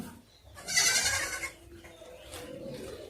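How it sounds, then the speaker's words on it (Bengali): On a goat farm, a single goat bleats loudly and close by in a wavering cry over a low, steady background of livestock noise. "এখানে ছাগলের চাষ করা হচ্ছে এটা হচ্ছে ছাগলের ফার্ম"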